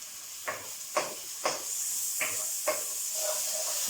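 Vegetables drop into a pan of onions cooking with chili, setting off five or six sharp sizzling bursts about half a second apart over a steady, close steam hiss.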